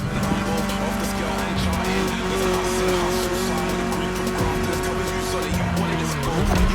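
BMW E30 driven in the racing game The Crew Motorfest, a steady engine drone with shifting pitch and occasional tire noise, loud and continuous while a voice talks over it.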